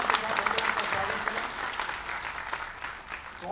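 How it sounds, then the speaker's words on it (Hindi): Crowd applause for the chief minister at a public event during a presidential visit, a sustained, dense roar of clapping that holds steady at full strength for the whole stretch. "तालियों की गड़गड़ाहट"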